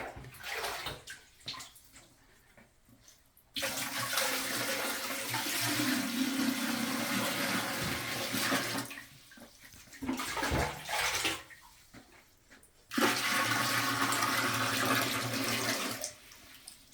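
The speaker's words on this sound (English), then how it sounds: "I just want to demonstrate how we filled the tank up to flush" A toilet whose tank was filled by hand from a bucket during a freeze with no running water flushes in loud rushing surges, water gushing and draining in two long bursts with quieter gurgling gaps between.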